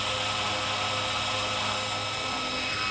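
A JCZK 300c Pro all-metal RC helicopter lifts off with a loud, steady, close rotor and motor whine, a dense buzzing roar that holds constant throughout.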